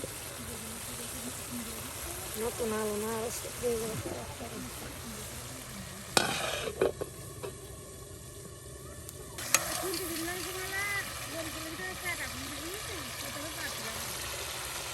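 Potatoes frying with spice masala in a pan give a continuous sizzle with stirring, mixed with background murmur and a few sharp clatters midway.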